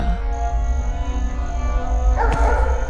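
A dog barks and howls while chasing an old woman carrying a pot at midnight in a Tamil comedy film scene, its cries blending into loud, dense music and sound effects.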